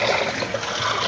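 A small stream of water pours steadily into an indigo dye vat in Niltepec, Oaxaca, a continuous close splashing trickle with no voices.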